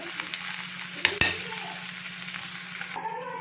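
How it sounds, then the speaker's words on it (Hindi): Paneer cubes fry in a pan for vegetable biryani, a steady close sizzle with a couple of sharp clicks of a utensil against the pan partway through. "पनीर को भी हमें तब तक फ्राई करना है जब तक एक अच्छी सी कोटिंग इस पर ना आ जाए"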